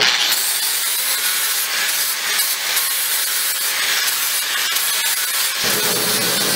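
A 4.5 inch angle grinder cleans up a welded horseshoe with a loud, continuous abrasive rasp lasting several seconds, then shifts tone near the end.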